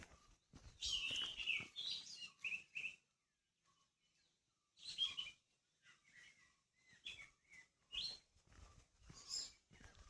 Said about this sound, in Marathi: या भयानक शांततेत मस्तपैकी या पक्ष्यांचा किलबिलाट चालू आहे।